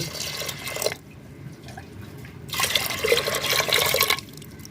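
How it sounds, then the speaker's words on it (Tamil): Water poured into a pressure cooker holding toor dal lentils for sambar, two bursts of splashing, gushing pour separated by a brief pause, close and clear with no talk. "இது தேவையான அளவுக்கு தண்ணி ஊற்றிக்கங்க."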